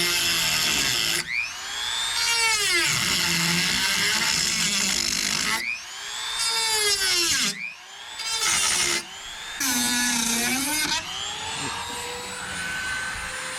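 Power drill boring a hole for a door bolt in a cargo trailer conversion, whining loudly in several long bursts with short pauses and changing pitch as the bit works through.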